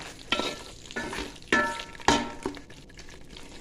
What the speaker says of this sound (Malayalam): ചോറ് ഇട്ട് റൈസ് ഇട്ട് കൊടുക്കട്ടെ